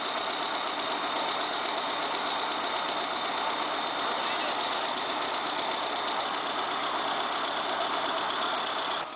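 A T130 crawler tractor's engine runs steadily while the machine sits stuck in a water-filled puddle, giving a constant, loud mechanical drone with no breaks.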